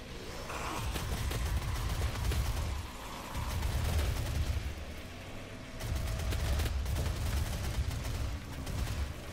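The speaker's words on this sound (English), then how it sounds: "Almost out of ammo in my super shotgun." Heavy booming blasts from a super shotgun in the DOOM game, bursting in loud rolling waves with brief lulls between volleys.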